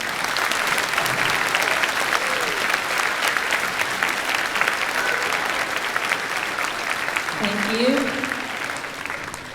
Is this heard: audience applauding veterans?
yes